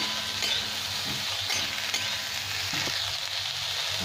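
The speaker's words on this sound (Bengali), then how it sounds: "এবার আমি দিয়ে দিলাম শিমলা মির্চ দুটো কেটে, একটু ভেজে নেব 2-3 মিনিট" Chopped capsicum frying for chowmein, a steady bright sizzle in a pan with occasional stirring scrapes, close and continuous with no talk.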